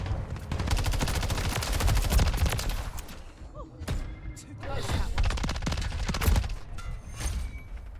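Rapid gunfire in the video game Call of Duty Warzone/MW3, dense close bursts of automatic shots cracking in quick succession, with a short lull midway before more volleys and scattered single shots.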